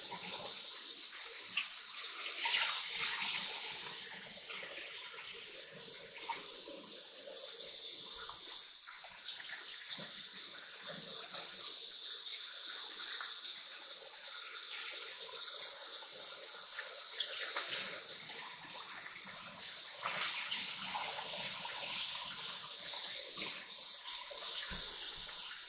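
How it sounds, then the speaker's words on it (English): Plastic baggies washed out under a running kitchen faucet, a continuous splashing stream of water with shifting gurgles and swishes as the bags are rinsed, steady and close for the whole stretch. "I always wash the baggies out real good."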